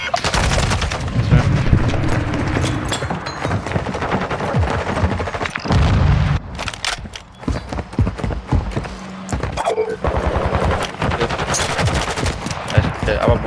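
Rapid bursts of automatic gunfire and single shots from a Call of Duty 8s match ring out loud and near, overlapping with game effects and players chattering throughout.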